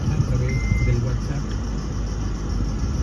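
A 2006 Acura car idles just after starting, giving a steady low engine rumble close by with one short high beep partway through.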